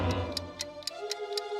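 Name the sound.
ticking time bomb in cartoon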